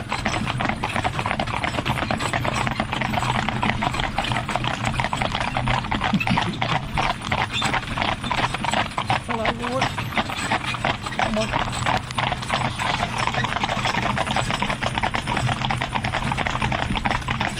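Hooves clip-clop in a fast, busy patter from several young horses, yearlings and two-year-olds, moving together outdoors, steady throughout with faint voices in the background.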